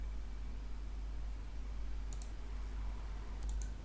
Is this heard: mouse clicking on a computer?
yes